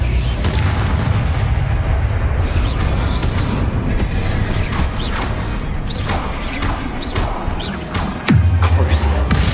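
Spell explosions from the Confringo fire spell in the Hogwarts Legacy video game, booming blasts with crashing debris over a dense, loud combat backdrop, repeated through the stretch with a heavy low thump near the end; a voice speaks faintly underneath.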